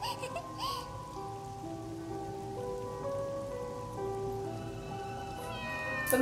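A cat meows in the video game Balan Wonderworld, a few short calls early on set against steady game music and a soft rain-like ambience.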